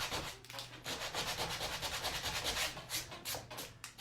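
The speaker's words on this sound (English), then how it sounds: "I'm going to really sand it down." Sandpaper rubs over a painted wooden sign in quick back-and-forth strokes, a continuous rhythmic scratchy rasp heard close and alone.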